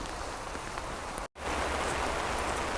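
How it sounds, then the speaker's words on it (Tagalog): Steady rain falls over an organic vegetable garden with intercropped plots, a dense continuous patter on surfaces that cuts out for a split second midway, then resumes just as loud, with no voices. "Umuulan pa rin."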